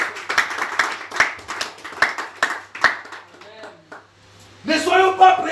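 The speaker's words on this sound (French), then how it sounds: "Est-ce qu'on peut acclamer le Seigneur de Dieu?" A church congregation claps and applauds in loose, rhythmic bursts, loud and close, then a voice swells up at the end over a low hum.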